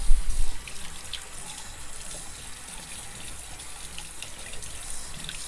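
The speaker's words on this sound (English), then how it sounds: "Go ahead and rinse out your reservoir too" Tap water runs steadily into a sink while an oral appliance reservoir is rinsed, a close, continuous splashing hiss that opens with a brief louder gush and then settles into an even flow.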